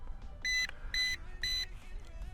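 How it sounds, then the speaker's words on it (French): Three short electronic beeps from an Eachine E135 helicopter's radio controller in an even rhythm, each about a fifth of a second, over a low rumble of wind. "3 bips pour dire qu'elle est en route."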